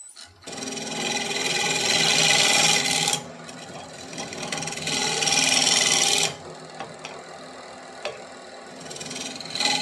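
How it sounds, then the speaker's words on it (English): Square-inch scraper drawn across the flat bottom of a wooden lidded box made from scrap offcuts, two long loud rasping strokes, each about three seconds, then quieter light scrapes and taps, close and without talk. "let me get my square inch scraper. We'll make a pass across the bottom and ensure that it's flat."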